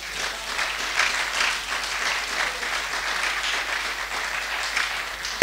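A church congregation claps together in steady, sustained applause that fills the room, with an even wash of many hands and no breaks for about five seconds.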